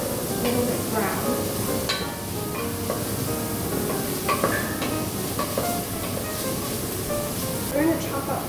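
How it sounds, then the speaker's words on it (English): Stirring in a pot while making mushroom soup, a steady spoon-scraping and sizzling texture running continuously under intermittent voices and kitchen clatter. "So I'm going to stir it until it's kind of a little bit brown."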